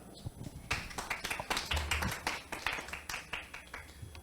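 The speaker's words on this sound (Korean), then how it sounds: "큰 박수 부탁드립니다" Clapping from an audience at a 2021 high school student council network meeting as a student presenter comes on stage: sparse, uneven claps that build into a steady patter of hands, fairly quiet and moderately close.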